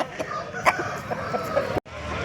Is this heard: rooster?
yes